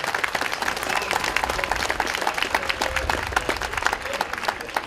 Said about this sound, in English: Can we just applaud just for that?